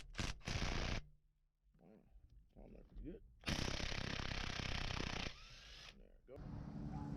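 A ratchet works the 19mm center bolt on the steering column of a 1992 Nissan Hardbody D21. Loud, close bursts of rapid clicking are broken by pauses and quieter handling noises.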